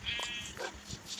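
A sheep in a survival video game bleats a few times in short, wavering calls, with someone talking over parts of it.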